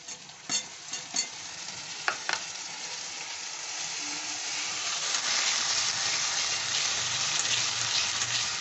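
Onion and garlic paste fries with chicken in a pan, a few stirring clacks at first and then a soft, steady sizzle that slowly builds, heard close up with no talking.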